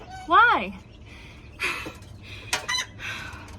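A rooster-like squawk rises and falls, then scattered clucks and rustling from Silkie chickens in a sand-bedded coop follow, close by and moderately loud.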